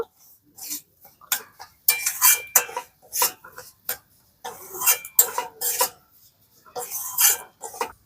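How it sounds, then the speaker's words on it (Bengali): Semolina being slowly fried in ghee over a very low flame for a milk cake, with a spoon scraping and clinking against the pan in irregular bursts separated by near silence. "এবারে একদম জালটা কমিয়ে দিয়ে আস্তে আস্তে করে সুজিটা ভেজে নেব"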